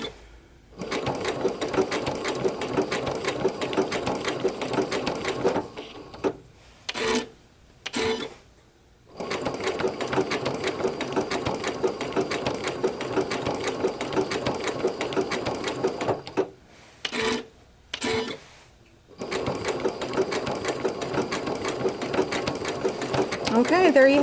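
A sewing machine stitches fabric around an inside curve in long, steady bursts of rapid mechanical whirring, stopping briefly several times before running again, with a voice speaking at times.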